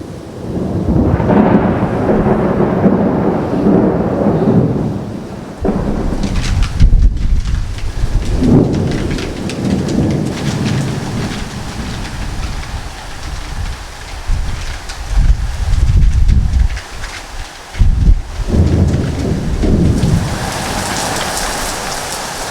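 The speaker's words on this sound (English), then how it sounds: "Well, so there is a storm happening." Heavy thunderstorm with steady loud rain pounding surfaces, broken by several deep rolling thunder crashes and gusts of wind, the downpour dense and close throughout.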